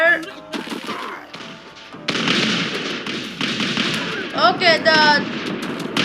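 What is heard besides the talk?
musket gunfire in Totally Accurate Battle Simulator video game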